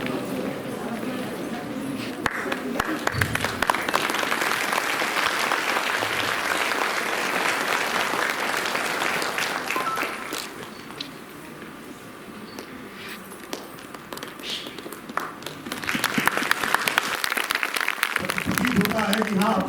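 Applause from a workshop audience at a government mission event in Gorakhpur, a steady crowd clapping that runs throughout, thinning briefly midway before swelling again, with voices mixed in.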